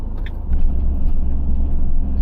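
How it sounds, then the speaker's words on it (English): Truck on a single-lane road heard from a pulled-over van, a loud close low engine rumble that stays steady throughout, with a few light jangling clicks early on. "So I'm just going to pull over and wait for this truck."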